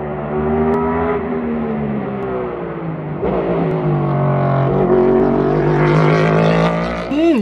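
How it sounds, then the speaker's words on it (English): A Next Gen NASCAR Cup car engine growls loudly on a racetrack, with a deep, snarling tone that rises and shifts in pitch as the car accelerates and passes. "You can hear the growl of the engine."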